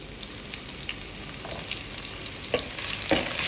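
Garlic frying in hot oil makes a dense, even sizzle up close, broken by a few sharper crackles and stirring scrapes.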